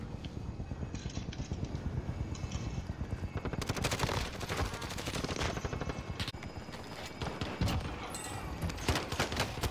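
Rapid automatic gunfire in Call of Duty: Modern Warfare, with bursts of machine-gun fire and scattered single shots. It is fairly loud and dense in the middle and sparser toward the end, with no talking.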